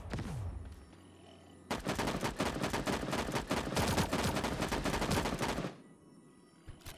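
Rapid automatic fire from an M416 rifle fitted with a 3x scope in the mobile shooter Sausage Man, a dense, loud burst of shots running about four seconds, with quieter game ambience before and after.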